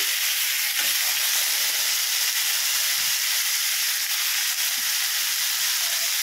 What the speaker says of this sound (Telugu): ఎండుమిర్చి, పచ్చిమిర్చి అండ్ టమాటా ముక్కలు ఈ 3 కూడా వేసేసుకొని ఆయిల్లో బాగా మగ్గనిద్దాము